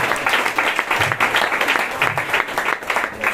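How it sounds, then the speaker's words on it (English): A church congregation claps for the choir during a Sunday celebration service, with steady, fairly close applause running throughout and brief murmurs of voices beneath it. "Can you clap for the choir?"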